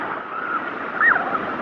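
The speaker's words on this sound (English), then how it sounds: "the waves are coming." Ocean waves breaking at Myrtle Beach, a continuous close surf wash that swells briefly in the middle, with wind buffeting the microphone and no talk.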